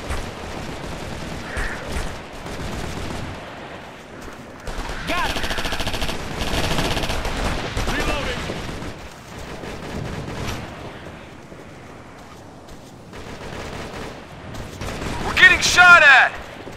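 Automatic gunfire and rifle bursts ring out in the military shooter Operation Flashpoint: Red River, firing in repeated loud volleys across the firefight with short pauses between, building to a sharper, louder burst near the end, voices calling out amid the shooting.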